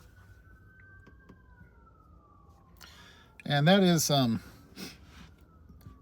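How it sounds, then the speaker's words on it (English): A distant emergency vehicle siren drifts past, faint and steady with a slowly falling pitch, while a voice speaks over it near the end. "there go the sirens"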